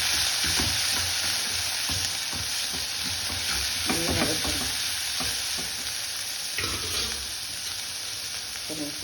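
Generous amounts of onion and garlic sauté in a hot pan while a spoon stirs them steadily, giving a continuous close sizzle broken by repeated scraping and clacking strokes, with no talking.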